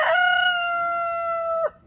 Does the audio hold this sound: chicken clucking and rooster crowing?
yes